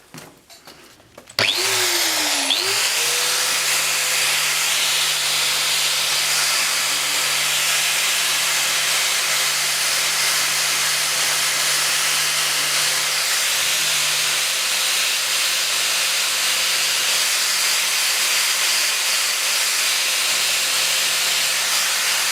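A repaired electric machine salvaged from a scrapyard starts up after a brief thump and spins up with a rising whine, then runs steadily with a loud, even hum and hiss for the rest of the stretch.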